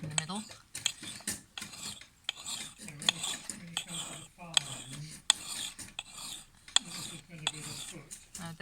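Axe edge rubbed on a sharpening stone with a dip in the middle, a series of rhythmic scraping strokes, each a short gritty rasp with brief gaps, close and moderately quiet, no talking.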